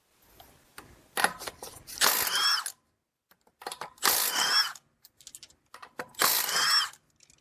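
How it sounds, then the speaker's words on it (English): Lug nuts (19 mm) come off the front wheel of a Chrysler Town and Country minivan in three sharp, rattling bursts of a power wrench, each under a second long, separated by near silence and small clicks. "Then we'll remove the wheel, and it's just going to be a 19 mil."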